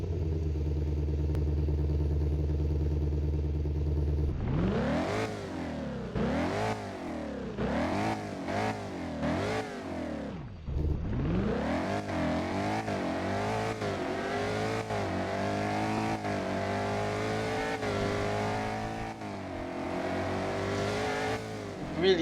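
A GTD car engine in the Driving Empire video game idles low, then revs hard through repeated rising and falling accelerations and gear shifts, loud and close, with a brief drop before climbing again; no talk.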